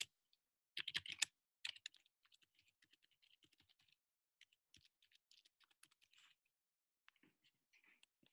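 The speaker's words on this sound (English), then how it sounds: "I'm just gonna type it in." Computer keyboard typing, close and quiet: a quick cluster of keystrokes, then a longer run of light, irregular taps with short pauses.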